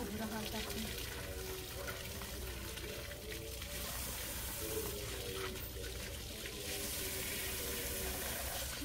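Water splashes and pours outdoors as feet are washed, a steady wet running sound at moderate level with a person's voice talking over it.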